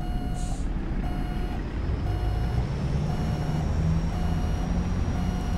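A Freightliner FLB truck backing up in American Truck Simulator, its reversing alarm beeping in a regular repeating pattern over a steady low engine rumble.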